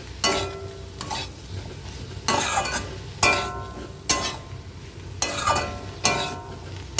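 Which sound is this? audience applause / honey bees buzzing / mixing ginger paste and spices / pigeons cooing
mixing ginger paste and spices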